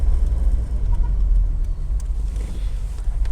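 Interior of a Volkswagen Quantum GL station wagon on the move, a steady low engine and road rumble that stays loud and constant throughout, with no voices.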